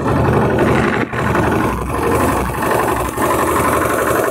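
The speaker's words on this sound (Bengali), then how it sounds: "পাশে একটা বোট যাচ্ছে।" Steady engine drone of a boat passing on the Ganges beside Dashashwamedh Ghat at Varanasi, continuous and fairly loud with a low rumbling throb and small dips in level, no talk.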